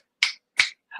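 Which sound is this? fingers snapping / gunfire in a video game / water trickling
fingers snapping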